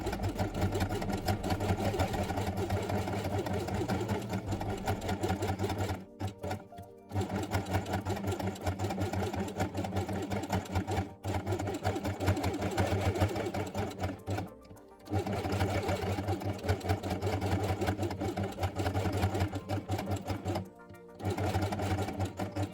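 A sewing machine stitches a felt quiet book piece with a continuous fast mechanical whir, pausing briefly a few times before resuming, close and steady.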